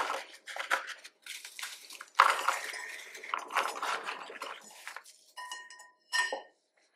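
Crushed digestive biscuits with a few larger chunks are stirred in a bowl, giving irregular close scraping and clinking bursts separated by short pauses.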